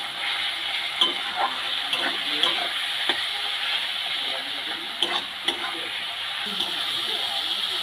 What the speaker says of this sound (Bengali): সব রকমের মশলা দিয়ে খুব ভালো করে টমেটো পেঁয়াজ থেকে কষিয়ে নেবো